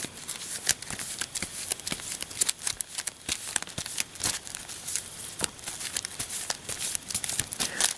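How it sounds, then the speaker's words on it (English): Marvel Legendary game cards shuffled by hand, a dense run of crisp riffling snaps and papery flutters repeating quickly and close for several seconds, with no speech. "Time to shuffle again."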